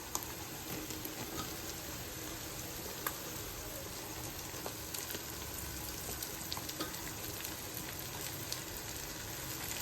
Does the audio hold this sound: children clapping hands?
no